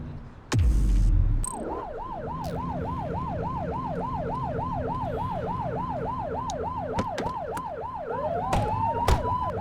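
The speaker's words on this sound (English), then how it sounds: "Turn that siren off." A police car siren in the video game The Precinct starts after a sharp thump and wails up and down in a steady, repeating cycle. It stays loud and close over a low engine hum, with a few clicks and knocks along the way.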